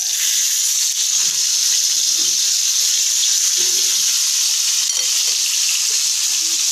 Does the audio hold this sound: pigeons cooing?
no